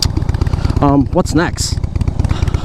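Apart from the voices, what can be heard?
motorcycle with Vance & Hines Short Shots exhaust riding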